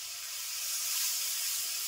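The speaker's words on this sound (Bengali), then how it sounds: "সামান্য একটু জল দিয়ে মশলা কষে নেব" A spice paste of salt and turmeric powder is cooked down in a pan with a splash of water and hisses softly and steadily, a smooth even sizzle that swells slightly midway.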